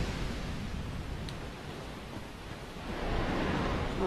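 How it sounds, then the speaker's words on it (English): Rushing waterfall water in the Dark Souls video game, a steady broadband roar that stays constant and fairly loud throughout, swelling slightly toward the end with no other sounds. "I hear like a waterfall or something"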